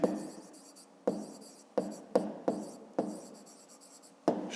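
Pen writing on paper while working a grade 5 maths exercise, a close, quiet run of scratchy strokes broken by about seven sharp taps as the pen touches down, with no talk.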